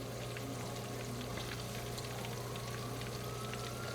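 Chicken fries steadily in hot oil, giving a continuous dense crackle and sizzle with fine popping bubbles, close and even throughout with no talking.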